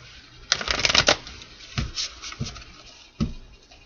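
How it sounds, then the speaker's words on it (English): Tarot cards being shuffled by hand, a dense riffling burst followed by several separate shorter flicks and slaps of the deck, close and fairly quiet. "Two more shuffles for Cancer."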